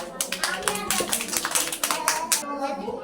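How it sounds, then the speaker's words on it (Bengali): Young children in a preschool classroom clap together in a quick, irregular burst of light, close hand claps over about three seconds, with a voice speaking over them before the claps fade out. "হয়েছে হয়েছে, ডাকাছে তা হাততালি দাও।"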